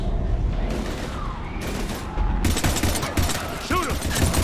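Heavy gunfire in the Mass Effect video game, a dense continuous fusillade of rapid shots and booms, with game voices shouting over the battle.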